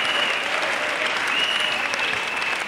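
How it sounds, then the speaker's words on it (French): A church congregation claps steadily for Jesus Christ, with dense, even applause from a large crowd lasting the whole moment. "Let's clap for Jesus Christ."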